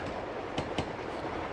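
A train rolling along in the Uncharted 2 video game, a steady loud rumbling clatter with two sharp metallic clacks close together midway, no talk.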